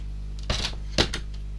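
A paper trimmer blade slices through craft card in two quick, close rasping swipes, half a second apart, over a low steady background hum.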